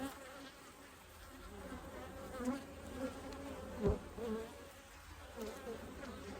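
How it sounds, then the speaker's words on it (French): Honey bees buzzing inside an open hive, a close, faint continuous drone with individual wingbeats rising and falling, and a few soft knocks. "Là il y a des petits tas d'abeilles"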